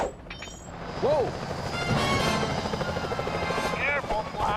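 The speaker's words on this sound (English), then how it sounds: "Those security choppers are bad news." Security helicopters whir steadily in the Sly Cooper game, a continuous rotor drone with game effects and sharp bursts layered over it, while a voice speaks over the action.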